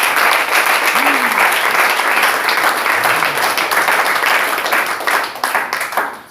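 Church congregation at a worship service breaks into loud, sustained applause, dense clapping filling the whole stretch with a brief vocal exclamation in the middle before it tapers slightly.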